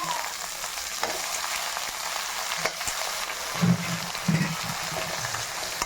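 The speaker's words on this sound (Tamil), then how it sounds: "கத்திரிக்காய் அந்த எண்ணெயிலே நல்லா வதங்கணும்" Brinjal sautés in oil in a pan, a steady soft sizzle and hiss with a few brief clicks and two low clunks near the end.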